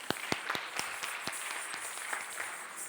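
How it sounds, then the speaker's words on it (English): Audience applause at a Kathak dance recital, a fairly quiet, even wash of clapping from a modest crowd with a few sharper nearby claps standing out, steady for about three seconds. "I think that deserves in itself a round of applause"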